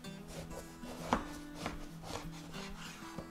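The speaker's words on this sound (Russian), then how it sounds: "Нарезаю баклажан пластинами толщиной примерно 1 сантиметр." A knife cuts an eggplant into slabs about 1 cm thick, giving a series of soft, close scraping strokes at an irregular pace with a few sharper taps against the board.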